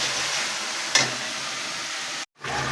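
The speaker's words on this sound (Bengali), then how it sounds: "মশলা কষাইতেছি, পেঁয়াজ, আদা, রসুন, কাঁচামরিচ কুচি" Spice paste of chopped onion, ginger, garlic and green chili fries in a pan with a steady, soft sizzle and hiss, broken by one brief utensil clink and a short gap near the end.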